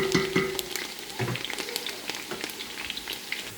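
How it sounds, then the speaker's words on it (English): Chopped onions sizzling and frying in a pan while Nigerian Ofada stew is cooked, with a steady crackle, light stirring scrapes near the start and a close, moderately loud hiss throughout. "Don't let it fry for too long so it don't get burnt."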